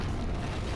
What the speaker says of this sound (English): An explosion of darkness overtook me and I was unable to see everything.